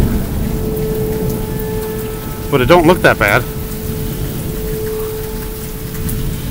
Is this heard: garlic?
no